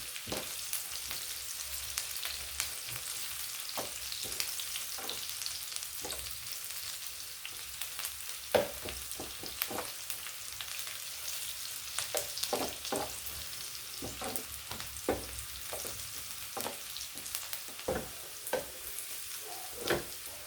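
Sliced onions fry in a pan with oil and salt for a fish varuval, giving a steady, close sizzle punctuated by frequent clicks and scrapes of stirring.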